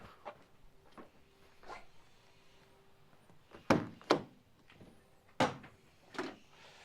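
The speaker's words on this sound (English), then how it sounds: "Now let's just go around and open up the back doors." A few loud, sharp thunks and clunks of an Iveco Daily work van's rear doors being opened, with quieter clicks and handling noises between them.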